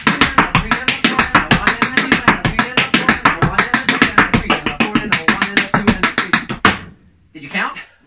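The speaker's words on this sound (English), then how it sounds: "Try and count how many times it goes leap, shuffle, pick up, toe, heel." A tap dancer at a masterclass repeats a leap, shuffle, pick up, toe, heel sequence, making fast, sharp, evenly spaced taps in a steady rhythm, then stops abruptly, followed by a brief faint sound.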